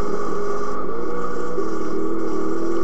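A car engine in the video game GTA Criminal Russia drones as a steady, loud hum with a slight shift in pitch partway through. It plays alone, with nobody speaking.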